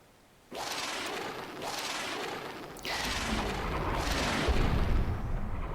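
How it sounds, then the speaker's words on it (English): Artillery bombardment in the wargame JTS Panzer Campaigns, Bulge '44 scenario: a continuous roaring barrage with repeated heavy booming impacts that swell in several waves and grow louder toward the end. "we're giving it some artillery treatment"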